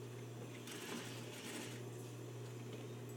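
A sewing machine stitching a garment seam, overlapping the previous stitching, a steady fast mechanical whir with a constant motor hum, close and alone.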